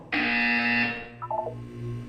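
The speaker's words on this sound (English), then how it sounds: "When you hear the buzzer, look down at the floor." A loud electronic buzzer from the video game Portal 2 sounds once for about a second, followed by a short descending trio of beeps and a low hum.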